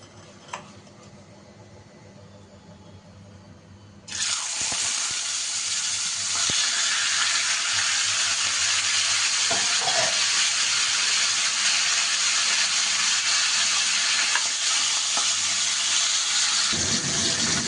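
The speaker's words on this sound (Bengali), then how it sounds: "এবার আমি ইলিশ মাছের মাথাটার মধ্যে নুন হলুদ মাখিয়ে মাথাটাকে ভাজবো।" Hilsa fish head rubbed with salt and turmeric drops into hot mustard oil, setting off a sudden loud, steady sizzle and hiss that holds strong for over ten seconds after a quieter opening, with faint ticking in the background.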